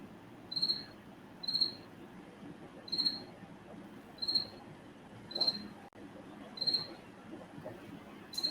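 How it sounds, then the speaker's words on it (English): Crickets chirp in a steady pattern, one short high-pitched burst roughly every second, heard from a moderate distance over a low, constant background hum with no talking. "See, when I'm not like trying to record something, I actually don't mind those crickets at all."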